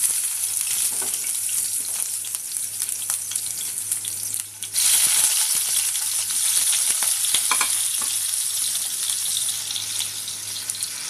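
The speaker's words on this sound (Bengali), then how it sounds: "আমরা এগুলো এখন ভেজে তুলব" Cut eggplant pieces fry in a few spoonfuls of hot oil, a loud, steady hiss and crackle that dips briefly and then surges back even stronger, with scattered pops throughout.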